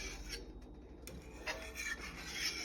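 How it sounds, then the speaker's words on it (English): A spoon scraping the bottom of a cooking pot as a sauce for rice and beans cooks down, giving faint, irregular rasping strokes with soft bursts that repeat throughout, alone with no talk. "making sure that you're scraping the bottom"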